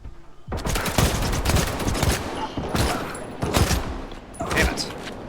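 Rifle fire rattles out in fast bursts in the video game S.T.A.L.K.E.R. 2 during a close-quarters fight, loud sharp cracks in several volleys with short gaps between them.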